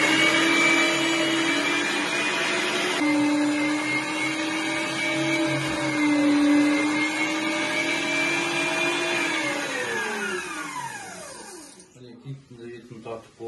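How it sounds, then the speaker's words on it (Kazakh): An electric meat grinder mincing saiga meat with fat runs with a steady loud whining hum, its pitch wavering under load, then spins down and stops near the end. "Киіктің етін тартып болдық."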